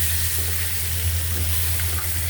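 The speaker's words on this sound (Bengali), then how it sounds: "আমি তেলের মধ্যে ডিম দিয়ে দিলাম।" Eggs fry in hot oil in a home kitchen, giving a steady, loud, close sizzle with a constant hiss and no pauses; no talking.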